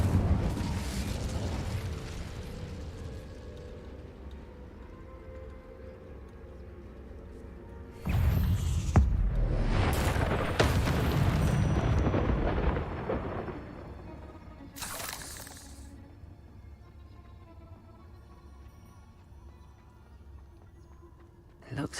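Incendio fire spell cast in Hogwarts Legacy inside a cave, loud bursts of fiery whooshing and crackling in a few separate blasts, with low rumbling between them.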